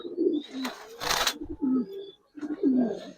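Giribaz and coloured pigeons coo close by in a series of soft, repeated low throaty calls, broken by a short burst of wing flapping or rustling partway through.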